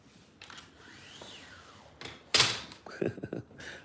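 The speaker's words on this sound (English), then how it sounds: "She's doing the blinds." Window blinds being adjusted in a room at home, a few rustling, clattering bursts and a sharper rattle partway through, heard close and without talking.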